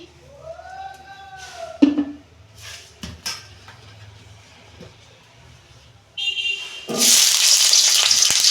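Potatoes and papaya fry together in hot oil with a rising crackle and sizzle near the end, after scattered clinks and knocks of pans and utensils, with a voice talking earlier.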